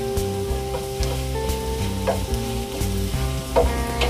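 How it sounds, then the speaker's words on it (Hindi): Coriander powder and turmeric fry in a pan over low heat for a potato and capsicum curry, a soft steady sizzle with occasional stirring under background music. "ये हमने 1/2 से ज़्यादा हल्दी पाउडर डाल दिया। इसको हम थोड़ा सा भून लेते हैं।"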